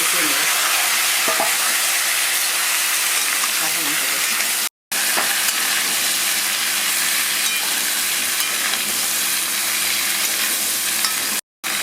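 Potatoes frying in a pan of hot oil with bay leaves and radhuni seeds, a steady close sizzle with occasional stirring scrapes, broken by two brief silent cuts.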